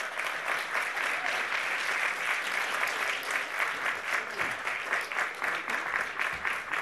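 Steady, dense applause from a conference audience as panellists walk onto the stage, even clapping sustained throughout with no clear talk over it.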